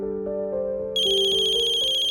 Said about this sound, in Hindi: कियारा मैम का ही फोन है।